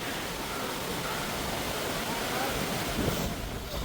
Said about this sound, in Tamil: காற்று கொஞ்சம் அதிகமாக அடிக்குது